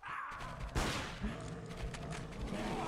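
Several gunshots crack in Cabela's Dangerous Hunts on PS2, a sharp loud report followed by quieter shots and impacts amid game noise.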